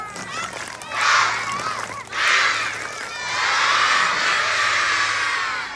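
Schoolchildren at a school fire-brigade visit chant and shout in bursts, a lively crowd of young voices rising in three loud waves, with the last sustained cheer running to the end.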